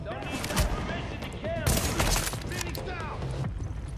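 Rapid bursts of gunfire in The Division video game, several volleys crackling loudly and continuously over the whole stretch, with a voice talking over the shooting.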